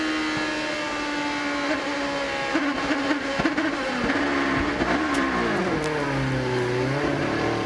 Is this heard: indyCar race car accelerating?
yes